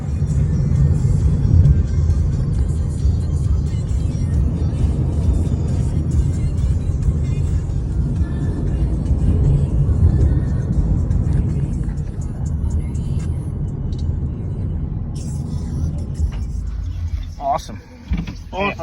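Ride inside a black Toyota Yaris Uber car, a loud continuous low road and engine rumble filling the cabin, easing slightly near the end with some brief clunks.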